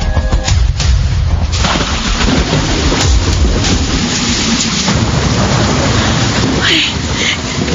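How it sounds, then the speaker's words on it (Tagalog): Heavy rain pours in a dense, steady roar with rumbling thunder rolling beneath it, loud and continuous from start to finish. "Tuloy, inabot ako ng ulan."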